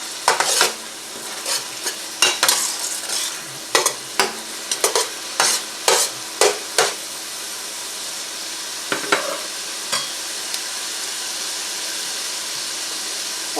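Onions fry in a pan for cheesy corn chowder under a soft background sizzle, while a utensil scrapes and clacks against the pan in repeated bursts of stirring, near and loud, with a quieter gap midway.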